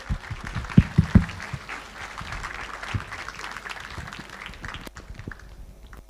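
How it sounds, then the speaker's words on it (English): A conference audience at a Pan African opening ceremony applauds a speaker's introduction, producing a dense, moderately distant patter with a few sharper nearby claps, which thins and fades toward the end. "S'il vous plaît, applaudissez."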